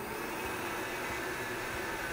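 A Vitamix blender roars steadily at variable speed 10, a loud, even, continuous motor whine with no breaks.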